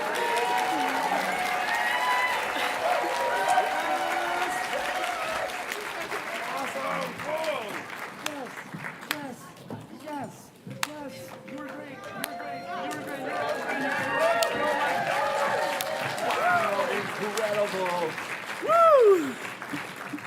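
Gala audience clapping, a sustained round of applause from a crowd with cheers and chatter mixed in, fading briefly midway before swelling again.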